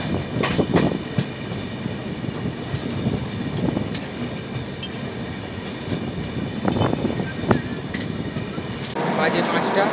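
Samleswari Express 18005 rolling along its rails, a steady low rumble with scattered clicks and jolts throughout, passengers' voices faintly mixed in underneath.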